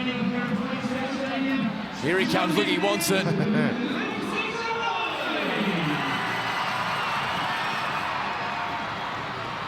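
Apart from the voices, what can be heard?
rugby league crowd in the stand cheering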